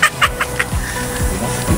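Chickens clucking nearby in short, repeated bursts, with a low steady background hum throughout.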